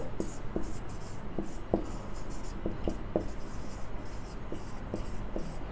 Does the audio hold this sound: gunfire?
no